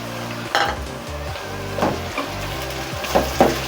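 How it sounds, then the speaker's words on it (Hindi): Chopped tomatoes go into lightly browned onions frying in a pan for a Bengali-style gosht or chicken curry, with steady close sizzling and a few clattering stirs and scrapes of a utensil against the pan. "ये हमारी प्याज हल्की ब्राउन हो चुकी है। अब इसमें हम टमाटर डाल लें।"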